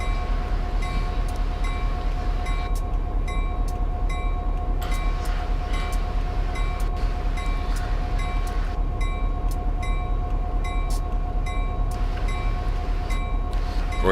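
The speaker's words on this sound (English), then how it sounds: "Go ahead and turn the bell off." A locomotive bell in Train Simulator 2015 rings steadily and rhythmically over a continuous low engine rumble, with regular repeating strikes throughout and no talking.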